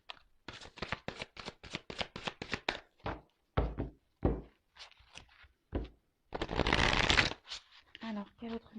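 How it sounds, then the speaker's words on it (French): Tarot cards shuffled during a French-language reading, a quick run of crisp riffling bursts followed by scattered card slaps and one dense sustained shuffle, with speech between the bursts. "Allez, je prends encore quelques cartes."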